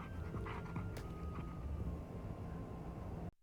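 Dog panting in the video game Mato Anomalies, a steady quiet breathy rhythm under low ambient hum, with a faint whimper near the start and no talk.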